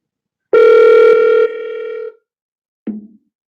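A phone call tone sounds as a steady electronic beep held for about a second and a half, then a short softer blip as the line cuts to a voicemail recording, clear and close with no talking.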